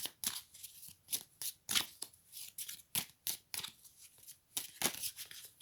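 Kinesiology oracle cards being shuffled, a quick run of close, crisp riffling bursts repeating in an uneven rhythm, with no voice over them.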